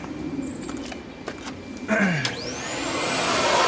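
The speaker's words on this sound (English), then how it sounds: "So I'm gonna do my best to kind of vacuum that out." A vacuum cleaner switches on midway inside the cabin of a Mercedes ML55 AMG and spins up to a loud, steady whining roar as it sucks up debris. Faint handling noises come before it starts.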